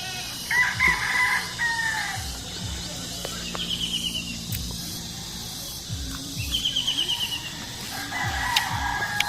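Bisaya native chickens at a farmyard, a rooster crowing several times over ongoing clucking and cackling from other fowl, fairly close, with faint voices in the background.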